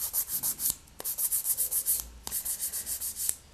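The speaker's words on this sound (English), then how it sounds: "So I push my finger up against the file like this and rub." Gel nail rubbed back and forth against a nail file, a close, rhythmic scratching in quick regular strokes with two brief pauses, and no talking.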